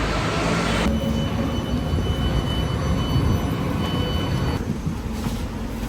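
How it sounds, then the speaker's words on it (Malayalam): An S-Bahn train in Germany rumbles steadily in a loud, close, continuous roar, with a faint high whine running through it and no talk. "ഈ ട്രെയിൻ പറയുന്ന പേരാണ് എസ് ബാൻ"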